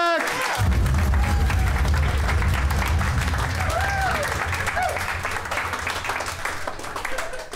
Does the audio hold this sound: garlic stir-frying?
no